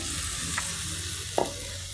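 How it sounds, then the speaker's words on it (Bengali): Fried potato pieces go into sizzling chicken curry masala, with a constant close sizzle, a light stir and then a brief clatter as the pieces are tipped in and moved around, with no voices. "এবার আমি এর সঙ্গে দেব আলু যে ভেজে রেখেছিলাম"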